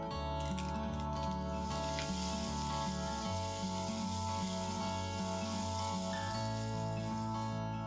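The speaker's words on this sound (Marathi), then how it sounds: "लसूण आलं छान फ्राय झालंय।" Ginger-garlic paste fries in hot oil with cumin, asafoetida and curry leaves for a chana masala tempering, giving a loud, steady, close sizzle that runs unbroken throughout with no talking.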